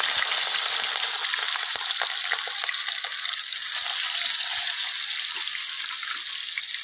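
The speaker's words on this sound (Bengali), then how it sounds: "তেলটা গরম হয়ে গেছে, মাছগুলো আমি ভেজে নেব।" Rohu fish fillets frying in hot oil, a steady dense sizzle with crackling pops running continuously and fairly loud, no voices.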